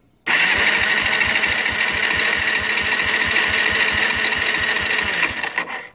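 A motorcycle engine cranks over with the ignition on and the bike in neutral during a compression test, a fast steady rhythmic chugging of the starter that runs loud and unbroken for several seconds before stopping abruptly.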